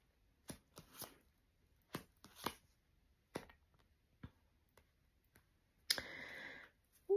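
Tarot cards being drawn and handled, heard as sparse close soft clicks and flicks with quiet pauses between, ending in a brief louder shuffle.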